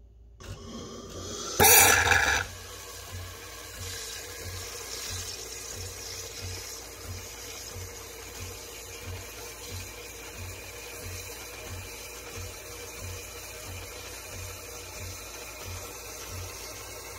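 A DeLonghi ECAM23.460 coffee machine dispensing milk for a cappuccino opens with a short loud hissing burst, then settles into a steady low pumping hum with faint gurgling that continues to the end.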